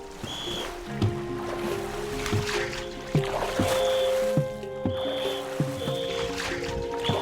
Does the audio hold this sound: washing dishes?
no